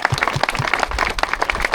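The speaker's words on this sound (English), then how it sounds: "Let's give them a round of applause." Crowd at a Wreaths Across America ceremony in Harlingen, Texas applauds veterans with steady, dense clapping that fills the whole moment, close and lively with no talking.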